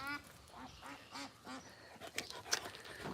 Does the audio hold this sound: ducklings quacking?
yes